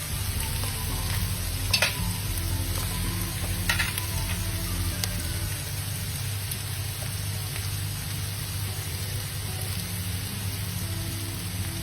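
Carrot, capsicum and other vegetables stir-fry in a hot pan, sizzling in a steady hiss with a few louder scraping stirs near the start.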